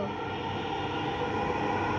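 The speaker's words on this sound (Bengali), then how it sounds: "এই যে মেট্রো আইসে মেট্রো আইসে দেখছেন দেখছেন এই যে মেট্রো" A metro train pulls into a station with a steady, even rumble and broad hiss that holds at a moderate level throughout, with no talk over it.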